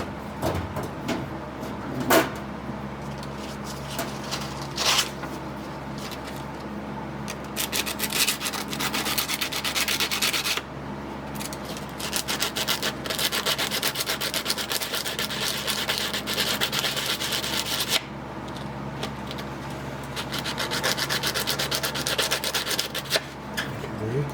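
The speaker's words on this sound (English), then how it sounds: "Sanded that down a little bit." A metal plate being sanded down by hand, continuous rough rubbing strokes close up, steady and fairly loud with brief pauses between passes.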